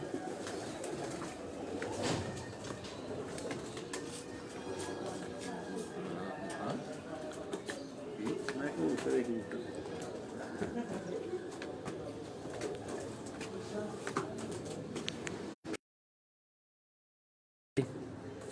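Pigeons cooing softly in the background under a voice, with a brief dropout near the end.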